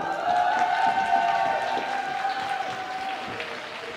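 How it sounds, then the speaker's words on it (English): An indoor audience applauds and cheers for team Kallio during an Oslo versus Kallio game, a loud sustained wash of clapping with high tonal cries on top that slowly fades. "So, could we get a cheer for Kallio?"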